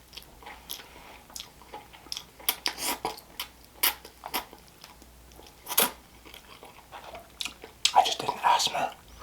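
Noodles from a sushi and seafood boil mukbang being chewed and slurped close to the mic, with soft wet bites and crunchy clicks scattered irregularly through quiet pauses.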